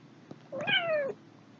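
A cat gives a single clear meow, close and moderately loud, a short drawn-out call with a slight downward slide, preceded by a faint tap against a quiet indoor background.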